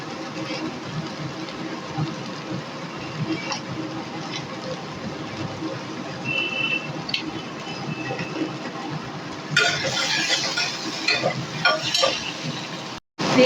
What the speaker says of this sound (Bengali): আমি একটু কম তেল দিয়েই কিন্তু এই পোস্তটাকে একটু নেড়ে চেড়ে দিচ্ছি